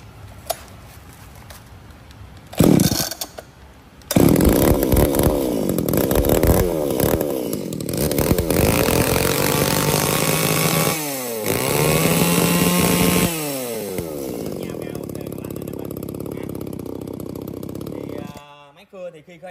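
A chainsaw with a sharp chain is started and runs loud and close, its engine revving up and settling to a steady idle with a few throttle changes before cutting off near the end.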